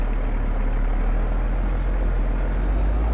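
A Peterbilt 389 big rig with a CAT C-15 engine in a driving video game, a steady heavy diesel rumble with a faint air-brake hiss, loud and constant throughout.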